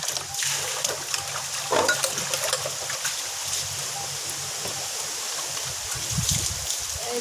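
Water runs while dishes are washed by hand, a steady trickling flow close by with clinks and knocks of dishes. Faint voices murmur in the background.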